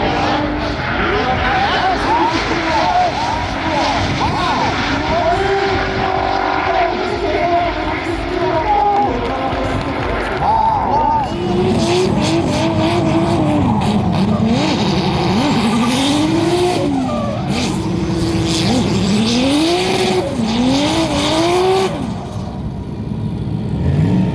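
Drift cars on a parade lap around the track: several engines drone and rev with rising and falling pitch as they pass, loud and continuous over a crowd murmur, with some voices.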